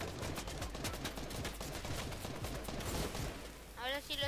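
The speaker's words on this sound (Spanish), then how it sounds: "Me disparan." Rapid bursts of gunfire in the video game Fortnite, a dense run of sharp shots through the whole stretch, fairly close, with a voice speaking briefly near the end.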